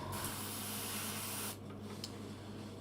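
An airbrush set a bit above 20 psi sprays air in a steady, loud broadband hiss that drops off sharply partway through, leaving a softer residual hiss with a couple of faint sputters.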